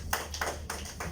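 Trainees at a Hindi-language safety induction at Al Zahia City Centre, Sharjah, clap, four distinct claps in an even rhythm, faint and slightly distant in a quiet room.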